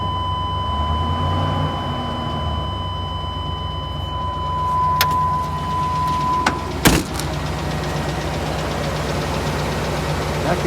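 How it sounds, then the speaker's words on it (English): A 1998 GMC Savana van engine idles steadily with a faint, regular ticking running through the drone, close by, broken by a single sharp clunk near the end; no speech. "I can hear the tick."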